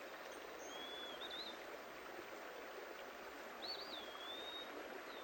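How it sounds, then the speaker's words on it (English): A small, clear stream trickles softly through spring woodland, a steady quiet wash with a couple of faint bird chirps high above it. "clear streams."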